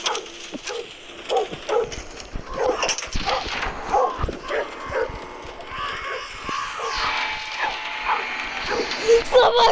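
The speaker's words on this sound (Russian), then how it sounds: "А какого черта ты лаешь?" Dog barking and yipping indoors, repeated sharp barks mixed with whimpers close by, while a person talks over it.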